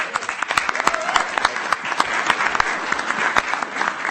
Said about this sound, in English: So a round of applause for our chairman.